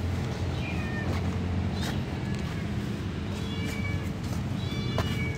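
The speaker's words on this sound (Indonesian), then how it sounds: "Ada suara kucing soalnya." A cat meows several times at night over a steady low outdoor rumble, the short rising cries fairly distant and faint, with no talking in between.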